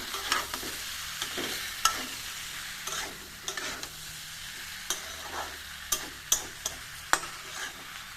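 Potatoes get stirred into a Bengali jackfruit curry in a pan: a steady close sizzle punctuated by repeated sharp spatula scrapes and knocks at irregular intervals, with no speech.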